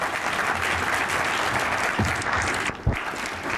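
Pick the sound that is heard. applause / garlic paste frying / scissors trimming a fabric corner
applause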